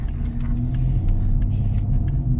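A 2010 Dodge Charger SXT engine rumbles steadily through its single-chamber exhaust, a deep low idle with a slight pulsing texture, close by and alone.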